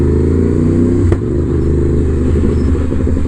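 An Aprilia Tuono 660 motorcycle is ridden with its engine loud and close. It gives a steady throbbing drone, a brief break near the middle like a quick gearshift, and then keeps pulling on.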